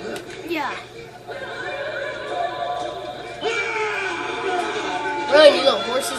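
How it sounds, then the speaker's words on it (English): Horses in a video game whinny repeatedly, with several loud neighs scattered over the scene, mixed with game chatter and background crowd noise. "Run, you little horses."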